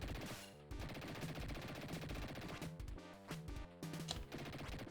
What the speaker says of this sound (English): I'm just riddling that brick building with bullets for no reason